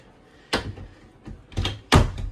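Cabinet doors of a double medicine cabinet in a small RV bathroom open and close, giving three distinct close thunks and clacks, each a sharp hit with a short rattle, spaced over a couple of seconds in a quiet room.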